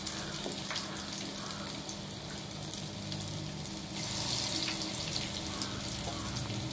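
Rava bonda fry in a pan of hot oil, giving a steady, dense sizzle and crackle close by that carries on evenly throughout with no pauses.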